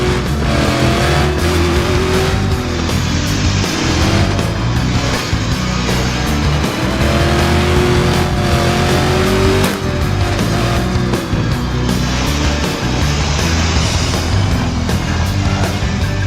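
Race car engine sound from the Short Oval Extreme video game on a short oval, loud and continuous, with shifting engine pitch as the car laps and brief tire squeal.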